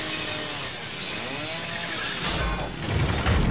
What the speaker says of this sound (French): Je peux pas la garder, la tronçonneuse.